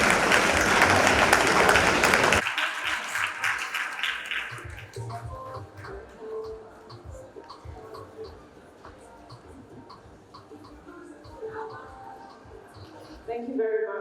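Audience applause welcoming a speaker on stage at a fireside chat event on climate change and Africa, loud dense clapping for about two seconds that cuts off abruptly, followed by quiet room sounds, light tapping and scattered speech.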